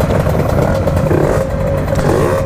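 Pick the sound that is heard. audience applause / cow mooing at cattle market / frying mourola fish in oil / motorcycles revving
motorcycles revving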